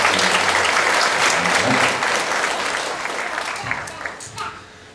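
A congregation applauds during a Sunday Thanksgiving church service, dense clapping that swells loudly at first and gradually thins and tapers off, with a few voices mixed in.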